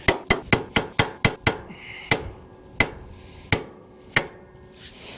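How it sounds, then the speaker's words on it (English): Lug studs are hammered out of a pivot wheel hub in sharp metallic strikes, a quick run of about seven blows followed by four slower, spaced hits, close and loud. "they just like regular lug studs, they just pound right out"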